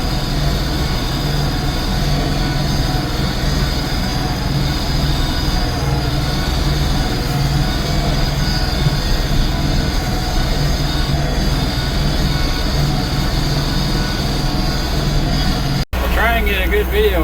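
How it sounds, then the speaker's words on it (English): A small-horsepower Kioti tractor pushes wet snow with an 8-foot box plow, making a loud, continuous engine drone and rumble that holds steady throughout before cutting off abruptly just before the end. "That's an 8-foot box plow pushing pretty wet."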